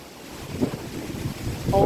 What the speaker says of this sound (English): Extremely windy out here.